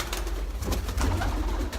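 Pigeons coo steadily and close by near their young, a soft low throaty murmur repeating throughout with no talk.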